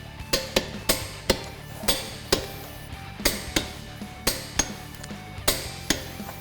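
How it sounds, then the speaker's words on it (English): Torque wrench tightening lug nuts to 140 foot-pounds on a car wheel during a brake job, giving a series of sharp metallic clicks and knocks spaced irregularly, close and fairly loud, with no talking. "and we'll torque these lug nuts."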